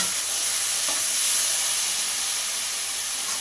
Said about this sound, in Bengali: মাঝে মাঝে ঢাকনা খুলে এভাবে নাড়াচাড়া করে দেব